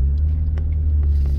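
The restored car known as Project Christine drives with a steady low engine rumble heard from inside, loud and continuous, with no talk.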